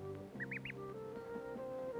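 A duckling gives three quick rising quacks in a row, close and clear, over a faint background of steady tones.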